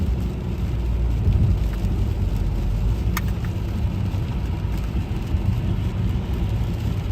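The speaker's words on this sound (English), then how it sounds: "Yeah, it's really raining now, guys." Heavy rain drums steadily on a rental car driving in Connecticut toward New York City, a dense continuous wash over low road and engine rumble, with no talking.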